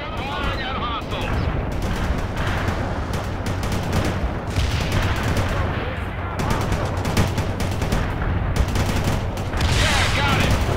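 Dense, continuous gunfire and machine-gun bursts from a World in Conflict battle in Seattle, loud and sustained throughout, with Bradley fighting vehicles and infantry engaging, under radio-style voice chatter.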